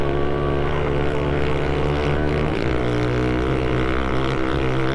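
SSR 125 pit bike ridden on an off-road trail at River Valley OHV, its small engine droning loud and close with a steady buzzing tone that dips briefly and climbs again, with no talking.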